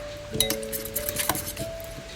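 A spoon clinks and scrapes inside a mug while mixing flourless tahini chocolate chip mug cake batter, with a few sharp taps against the rim over a short stretch.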